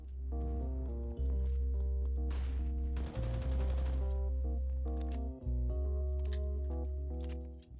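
Counter-Strike: Global Offensive gunfire on the Dust 2 map, a dense burst of rapid shots lasting about a second amid a loud, steady drone of in-game tones.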